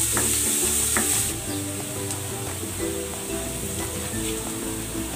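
Garlic sizzles steadily as it is sautéed in a hot pan for a fish dish, with occasional stirring clicks over a continuous frying hiss, fairly loud and close.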